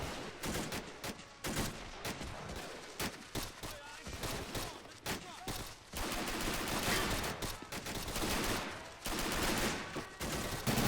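Dense gunfire in a Men of War battle during an amphibious Ranger assault on a Kriegsmarine naval base, with rapid machine-gun bursts and overlapping rifle shots crackling continuously at close range.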